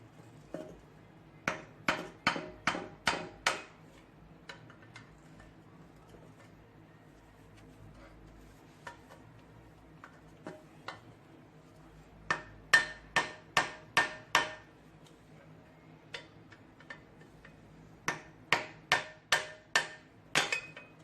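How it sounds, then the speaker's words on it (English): A screwdriver is struck with a hammer to knock a part out of an AE86 coilover, loud sharp metallic whacks in quick bursts of four to six, separated by quiet pauses, close by with no talk. "try to get a screwdriver and give it a few whacks from above here"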